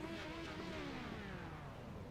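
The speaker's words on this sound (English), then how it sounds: "Giving some panic revs to our fans at home." A sports race car engine revs at Indianapolis, a faint, distant whining note sliding downward over a steady rumble for about two seconds.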